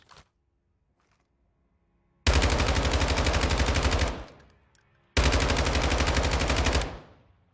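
Two sustained full-auto bursts from the 10.6 rifle in Call of Duty: Modern Warfare II, each about two seconds long, loud and close, separated by a brief pause with a faint click before them.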